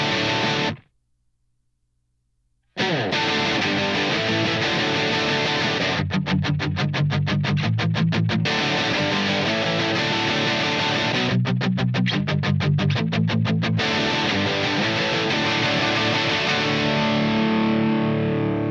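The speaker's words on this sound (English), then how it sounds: "These are the same guitar, the 335. I think they might be through the Marshall." Gibson ES-335 electric guitar played through a Marshall amp, sustained distorted power chords and octaves in a rock production, loud and dense, with a brief silent gap near the start and stretches of rapid choppy strumming.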